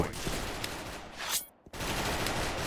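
A video game shootout in Venice with a G36C rifle: dense, rapid automatic gunfire rattles nonstop, breaking off briefly for a moment before resuming just as loud.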